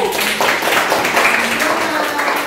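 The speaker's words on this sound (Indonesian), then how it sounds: "Beri tepuk tangan untuk kelompok 1." Classroom clapping for a student group during a lesson, a brief spell of many hands clapping close and fairly loud, mixed with voices talking.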